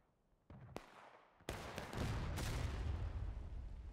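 Musket shots in a Civil War battle from the video game War of Rights, with a sharp nearby crack followed by further reports and a heavy, rolling rumble of distant volley fire, and no talk.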